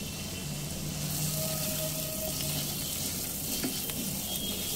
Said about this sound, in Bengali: সমস্ত মশলার মধ্যে অল্প একটু জল দেব, যাতে সমস্ত মশলা না পুড়ে যায়।